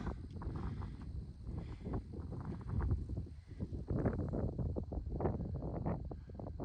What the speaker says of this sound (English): It's too windy to talk here